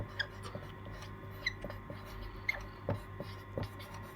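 Pen or marker writing on a board in a civics lesson, a run of soft, scratchy strokes and small taps at an uneven pace, close but quiet, with no talking over it.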